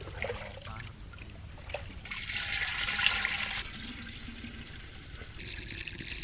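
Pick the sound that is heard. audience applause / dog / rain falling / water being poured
water being poured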